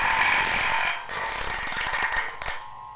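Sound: sharpening a bandsaw blade with a manual file

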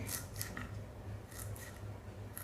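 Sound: knife cutting banana flower on a wooden plate

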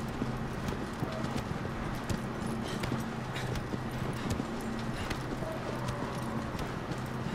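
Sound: horse hooves in the video game Shadow of the Colossus

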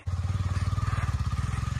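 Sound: motorcycle riding past in the dark

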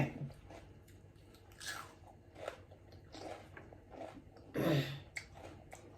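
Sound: eating mussels, chewing

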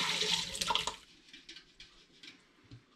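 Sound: pouring home-brew porter liquid from a pot

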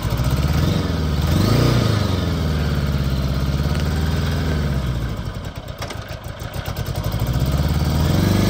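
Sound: 1976 Honda Goldwing GL1000 K1 motorcycle engine running

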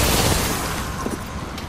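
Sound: Arcstar grenade explosion in Apex Legends video game

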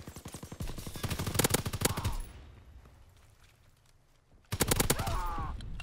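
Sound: Volk gunfire from a WW2 video game

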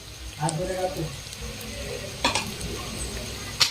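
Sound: stir-frying boiled noodles with vegetables in a pan

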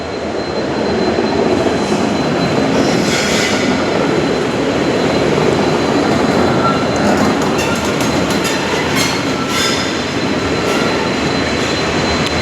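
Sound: trains at railway station

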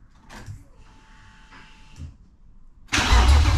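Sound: BMW M52B30 engine starting for the first time

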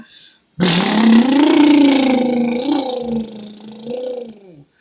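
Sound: lips imitating a motorbike engine sound

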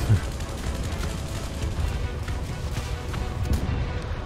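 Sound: artillery fire in video game War Thunder

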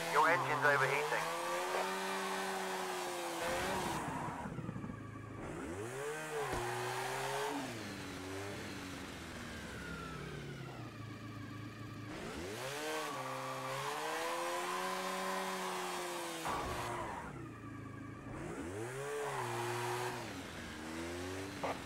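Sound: overheating damaged Honda car engine in a racing video game

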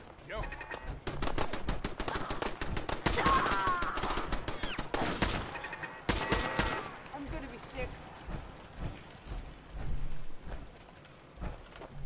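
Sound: gunfire in Fallout 4 video game

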